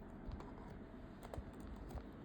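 Typing on a computer keyboard in a terminal session, with soft, quick key taps in a steady patter over a low room hum, close by and with no voices.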